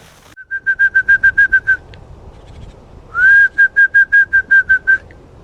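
A person whistles to call a young red fox in a wooded part of Syktyvkar: two clear bursts of about ten quick, evenly spaced high whistle notes each, separated by a short pause, loud and close over quiet background.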